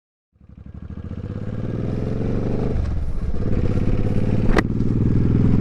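Suzuki Boulevard M50 cruiser motorcycle on a test ride, its engine starting up and then running steadily with a deep, loud rumble that grows slightly, plus one sharp click partway through.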